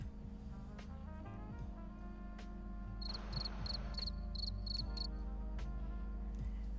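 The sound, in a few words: crickets chirping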